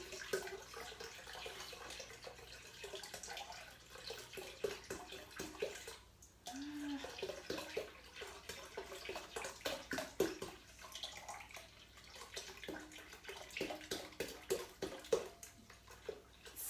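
Cranberry Mist Twist soda glugs and splashes steadily as it is poured from a 2-liter bottle into a punch bowl, a close, continuous liquid rush with bubbly fizz lasting throughout.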